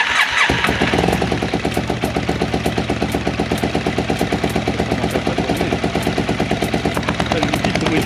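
A Yamaha Super Ténéré 750cc motorcycle engine catching and then running at a loud, close, rapid, even thumping idle that continues throughout.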